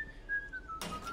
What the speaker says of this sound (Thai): โหผิวปากด้วย